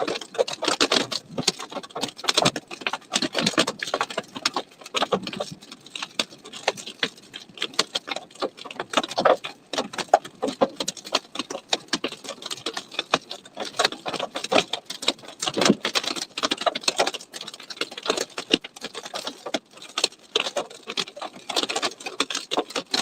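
Hail pelting a storm-chase vehicle beside a Colorado supercell, a dense, continuous patter of hard impacts rattling on and on for the whole stretch without letup.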